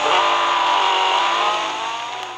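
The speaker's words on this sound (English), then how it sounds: "Up next is my 2010 Porsche 918 Spyder Concept." In the Real Racing 3 game, a 2010 Porsche 918 Spyder Concept engine revs at high pitch with a loud, sustained roar that tapers slightly near the end and has no voices over it.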